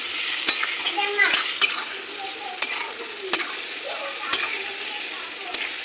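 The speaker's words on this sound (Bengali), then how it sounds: "মশলাটা ভালো করে ভাজা হয়ে গেছে" Spice paste of cumin powder, chili powder and whole green chilies sizzles in a pan for a hilsa fish curry, with a constant frying hiss broken by repeated sharp scrapes and clinks as it is stirred.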